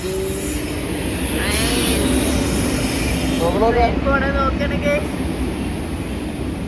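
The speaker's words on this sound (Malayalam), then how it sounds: "അതാ ട്രെയിൻ പോണോ?" A train rumbles past close by with steady wheel and engine noise, a high squeal rising near the end, while people talk over it.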